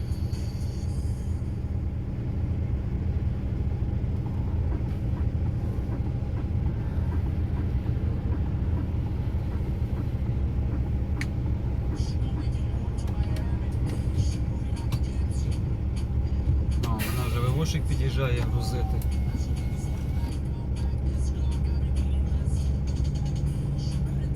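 Car engine drones steadily from inside the vehicle while driving uphill, with road rumble throughout and a brief rattling burst near the end; speech is faint at moments.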